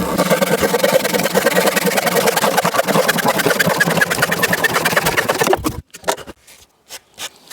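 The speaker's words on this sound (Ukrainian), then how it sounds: "Зараз відрізаю її також." A wooden board is cut with a motorized tool, a loud, steady buzzing drone for about five and a half seconds. It then stops abruptly and is followed by a few scattered knocks and clatters.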